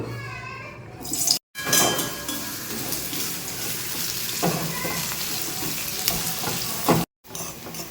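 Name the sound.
onion frying in a pan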